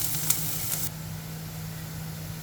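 Onions sautéing in a pan for lugaw, a soft continuous sizzle with a couple of brief sharp scrapes near the start over a low steady hum.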